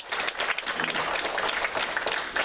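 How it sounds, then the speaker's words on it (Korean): A church congregation at a Sunday worship service breaks into a short burst of applause, a few seconds of moderate, somewhat distant clapping filling the sanctuary. "우리 성도님들 격려의 박수 한번 드리도록 하겠습니다"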